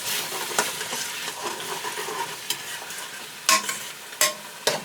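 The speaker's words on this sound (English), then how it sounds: "Let that deglaze. You have to do it while the heat's up," Alcohol deglazes a hot pan during tuna and noodle cooking, sizzling softly and steadily with a few sharp scrapes and clinks of stirring. The sound is close and quiet.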